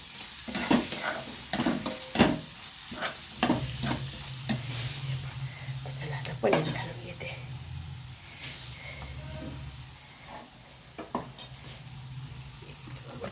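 Paneer bhurji with tomato and onion stirred in a pan, a spatula scraping in irregular clattering strokes over a low sizzle, with a voice talking in the background part of the time.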